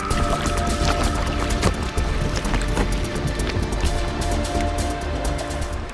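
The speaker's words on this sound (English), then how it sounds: "The sound of bubbles popping, the sound of ice grinding against itself." Meltwater bubbles popping and floating ice grinding in the iceberg-jammed water of Sierra Cove, Antarctica, a dense steady crackle and fizz with scattered sharper clicks, continuous and close throughout.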